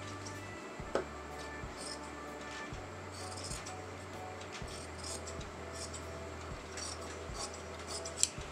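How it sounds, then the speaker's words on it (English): Scissors snip away excess canvas fabric around a kameez neckline, each quiet cut landing roughly once a second in a faint, regular series. "So now you're going to cut the excess fabric."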